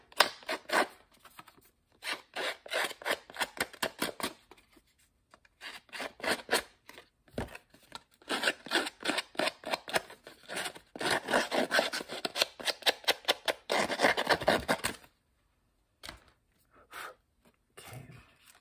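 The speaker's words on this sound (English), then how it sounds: "gonna use a scissor on this one" Scissors snip and rub against a journal cover as it is cut and roughed up, close, in quick bursts of crisp clipping separated by short pauses.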